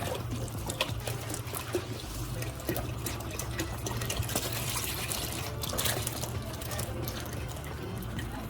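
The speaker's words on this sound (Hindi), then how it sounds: "मैं 1 पैकेट दूध और डाल दूँ" A packet of milk pours steadily into pasta sauce in a pan, a continuous trickling, liquid flow heard close up for several seconds.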